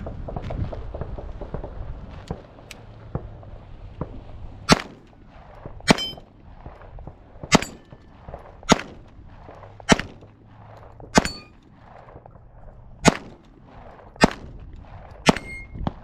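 A Sig Sauer P226 Legion SAO pistol fires about a dozen sharp, loud shots at irregular intervals, each a crisp crack followed by a short ringing decay and a brief gap before the next.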